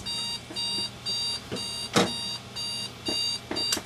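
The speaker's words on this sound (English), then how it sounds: "Forgot to change my alarm." An alarm going off inside the Fallout 3 video game, repeated electronic beeping in short bursts against a quiet background, with a few sharper clicks mixed in.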